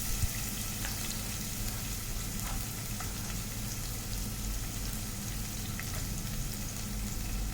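Chopped onions, green chili and ginger sautéing in oil after mustard seeds pop, a soft continuous sizzle with faint scattered crackles, close but quiet and without voices.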